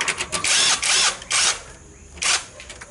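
A power tool spins bolts out of a Toyota Fielder inverter in three or four short, loud whirring bursts with brief gaps between them, close up and without talk.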